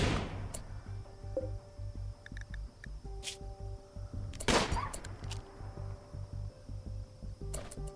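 Gunfire in the Rimworld video game, a series of short, sharp shots and bursts scattered irregularly over a steady low game soundtrack, with a few small clicks between them.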